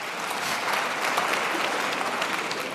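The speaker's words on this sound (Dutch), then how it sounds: "Zo klinkt een vrouwelijk applaus trouwens." An audience claps in a steady, dense patter that holds at an even level for a few seconds, moderately loud, with no voices over it.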